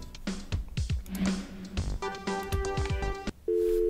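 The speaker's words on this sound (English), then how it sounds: "KSCUM's phone system is now out of order." An in-game telephone in Thimbleweed Park plays a repeating busy signal, a steady pulsed tone at the end, preceded by clattering effects and short electronic beeps.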